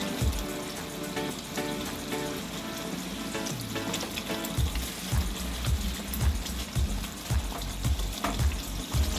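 Fish pieces simmering on low flame in a yogurt-based Bengali gravy with spices, giving a continuous close sizzling bubble with occasional soft knocks from a utensil.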